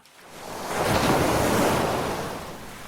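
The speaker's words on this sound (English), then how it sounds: "The prince's ship was caught in the tempest, tossed like a toy in the angry sea." Stormy sea waves and wind. A single rushing surge of surf swells up loud, holds for a moment, then fades, with windy roar and no voices.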